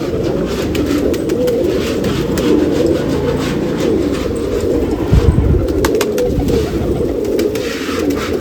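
Pigeons at a pigeon festival in Nashik give soft, continuous cooing close by, with occasional wing flaps and a brief louder flutter midway.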